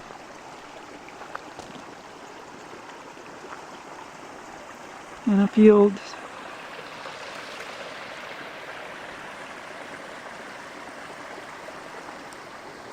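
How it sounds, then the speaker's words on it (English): A small creek trickles steadily throughout, with a voice speaking briefly over the flowing water. "here's like a little creek."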